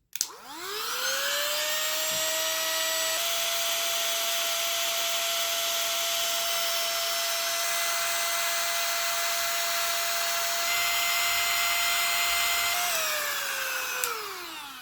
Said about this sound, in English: I think I need to put it on the high one